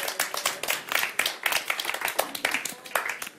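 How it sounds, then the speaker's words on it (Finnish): A studio audience on a Finnish Friday talk show claps and cheers, with sharp, close hand claps in an irregular burst across the stretch, mixed with voices. "Yleisössä tulee ainakin hurrausta tältä tietyltä laidalta."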